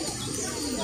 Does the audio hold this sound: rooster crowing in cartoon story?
no